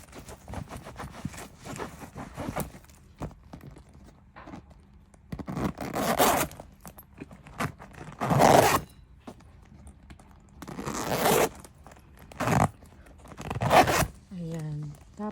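The zipper on a Louis Vuitton Speedy 40 bag is pulled back and forth in several quick, raspy strokes, close and loud, separated by quieter handling noises and brief stretches of near silence.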